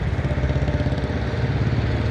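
Tractor engines at a farmers' tractor rally at the Tikri border near Delhi chug with a loud, steady low throb and rhythmic pulsing, close by and continuous, with no talk.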